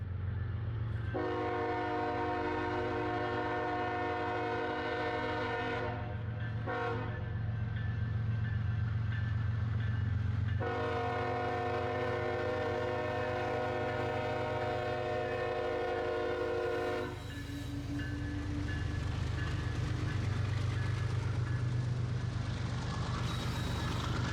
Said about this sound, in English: our empty coal train to throttle up and get going